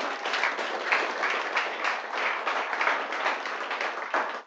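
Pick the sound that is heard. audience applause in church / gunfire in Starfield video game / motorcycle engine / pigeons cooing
audience applause in church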